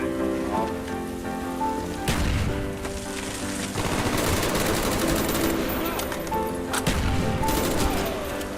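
Gunfire rattles in a Call of Duty match: rapid bursts of automatic fire in several clusters, loud and close, mixed with other game effects throughout.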